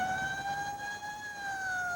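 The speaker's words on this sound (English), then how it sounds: "A constant stream of ambulances carrying the injured and dying race through the streets" Ambulance siren wailing through the streets of an Iranian town after an earthquake, a steady two-tone wail that rises slightly and holds, loud and continuous over faint traffic rumble.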